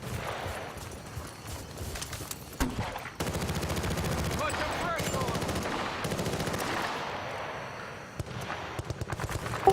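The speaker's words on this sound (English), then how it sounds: "What the hell are they shooting at?" Rapid automatic gunfire and bursts of shooting from a Battlefield: Bad Company 2 battle, loud and sustained with brief gaps and sharp single shots, some faint talk mixed underneath.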